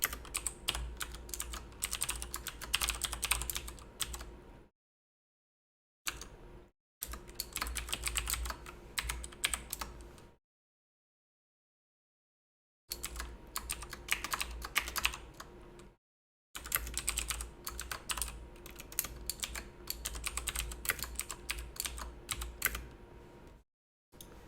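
Rapid clattering keystrokes on a computer keyboard fill in a form, coming in dense bursts of typing separated by several seconds-long silent pauses, close and clear with no voices.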